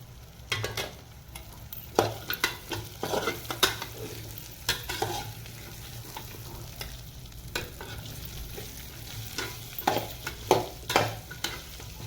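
Vegetables and field beans sauté in a pan, a soft steady sizzle broken by repeated scraping stirs and light clinks of a spoon against the metal, close and moderately loud, with no talking.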